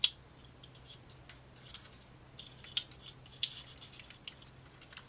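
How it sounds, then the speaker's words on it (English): A corner punch rounding off the corners of double-thickness card, a few faint, crisp clicks and snips against a quiet background. "With a corner punch"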